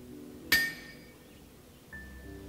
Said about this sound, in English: I must hammer your materials into